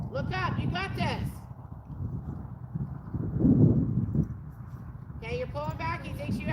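A rescue horse walks with steady clip-clopping hooves under continuous outdoor wind noise, while a woman gives riding instructions at intervals over it.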